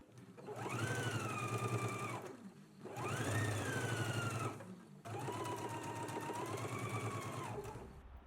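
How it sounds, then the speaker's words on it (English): A serger sewing machine stitches a t-shirt neckband in three sustained runs of steady, humming motor drone with brief pauses between them. Close and even, with no talk over it. "we're stitching the neckband on in a 3/8 of an inch seam allowance"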